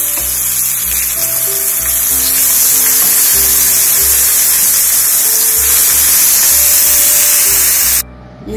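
Raw banana slices frying on a tava, a loud, continuous hiss and sizzle of hot oil heard up close, with faint background hum, cutting off abruptly near the end.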